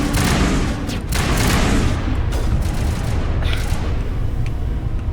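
Heavy gunfire in a Mass Effect battle, loud and dense with overlapping shots and booming impacts forming a continuous roar throughout.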